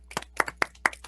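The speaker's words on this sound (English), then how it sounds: "Oh, we're clapping." Several sharp, uneven handclaps from a small group of people in a board of commissioners meeting room after a budget presentation, about five distinct claps in a second with no voices.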